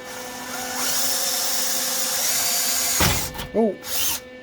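An electric drill with a bent bit whines steadily and loudly for a few seconds before stopping, followed by short bursts of nearby voices talking.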